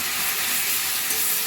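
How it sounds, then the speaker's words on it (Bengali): Spice paste frying in hot oil with salt for a rui fish roe curry, a dense, steady sizzle with faint stirring that fills the whole moment, no talk. "মশলাটা এরকম করে ভাজা হলে তেল ছাড়বে"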